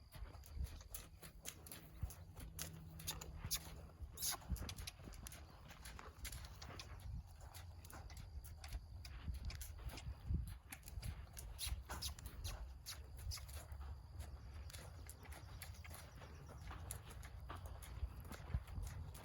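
A young horse's hooves during its first long-line training session, faint, soft and steady, thudding and shuffling over ground against a constant low rumble of outdoor background noise.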